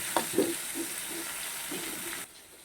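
Fish rubbed with salt and turmeric lands in a hot pan, giving a steady frying sizzle with a couple of sharp spits at the start before the hiss cuts out near the end.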